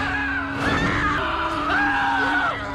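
A man's loud, sustained scream in the film Bride of Chucky, with a wavering pitch, lasting a few seconds over a busy background.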